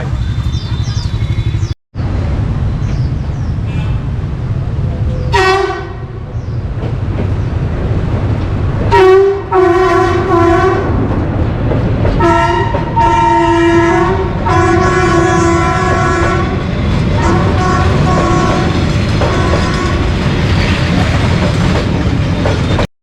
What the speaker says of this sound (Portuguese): Olha o trem pra passar.